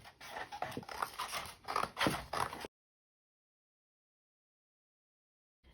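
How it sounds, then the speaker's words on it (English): A few snips and crunching cuts of scissors through stiff material, close up, followed by a stretch of silence. "I'm gonna use my big scissors for this one, and I'm gonna cut out a rectangle."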